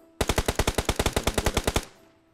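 Rapid automatic gunfire from a teammate in a shooting video game, a loud close burst of about sixteen evenly spaced shots followed by a short fading echo.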